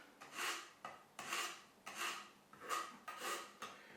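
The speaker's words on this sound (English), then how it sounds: "It just makes cutting the aloe leaves so much easier." A sharp knife cuts through aloe vera leaves in a regular series of rasping strokes, about six of them, close and quiet, with no talking.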